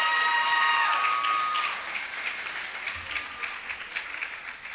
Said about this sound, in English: let's give all of our contestants a nice round of applause for their talent performances